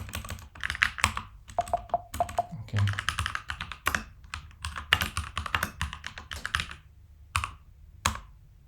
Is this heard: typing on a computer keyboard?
yes